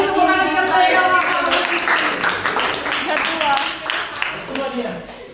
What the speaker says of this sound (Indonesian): kita kasih dulu tepuk tangan sekali ya